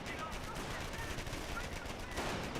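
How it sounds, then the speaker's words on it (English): Grenadiers fire G43 rifles in Company of Heroes, a quiet, distant patter of rapid shots blending into a steady battle din beneath talk. "As Grenadiers with G43s will retaliate"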